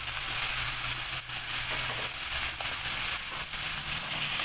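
Kabuli chickpeas frying with ground spice paste and salt in a pan give a steady, loud, close sizzle that fills the whole stretch without a break, with faint crackles and no talk.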